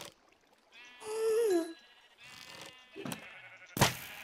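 Minecraft sheep bleat on a sheep farm, with one clear wavering baa followed by softer bleats and a sharp burst of game noise near the end.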